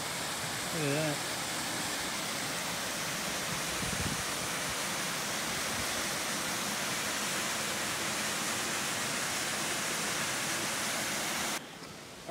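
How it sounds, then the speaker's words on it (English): A waterfall in Oregon's Opal Creek Wilderness gives off a steady, broad hiss of falling water for about twelve seconds. A brief tonal chirp rises above it near the start, and it fades abruptly at the end. "we made it to the falls"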